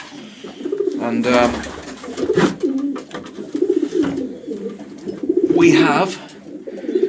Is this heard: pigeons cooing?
yes